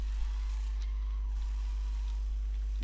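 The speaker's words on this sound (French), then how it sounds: "c'est un bruit de muscle car" A muscle car engine in the racing game Need for Speed World holds a steady, loud, continuous drone with no break and no one talking.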